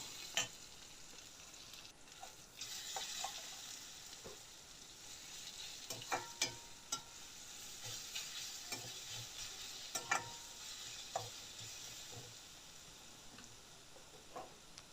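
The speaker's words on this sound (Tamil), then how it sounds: "நல்லா துருவி வச்சுருக்கிற மாங்காவையும் சேர்த்து நல்லா வதக்கி விட்டுக்கலாம்" Grated raw mango is sautéed in a pan at low volume: a soft continuous sizzle runs under scattered light clicks and scrapes from stirring, spread irregularly across the whole stretch.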